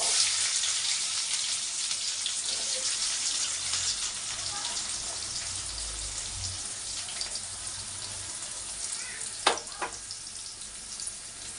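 Cumin, cinnamon, cloves, pepper and chopped onion frying in hot oil for a paneer masala curry, a loud, steady, close sizzle that runs unbroken, with a couple of brief sharper crackles near the end.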